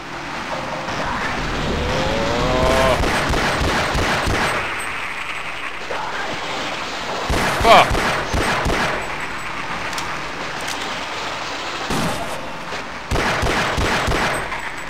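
Gunfire in the 2001 game Half-Life: Blue Shift rattles in repeated bursts over a rumbling background, with sharp loud cracks and a heavy thump partway through.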